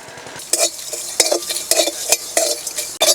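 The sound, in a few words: dry-roasting whole spices and dried chillies in a pan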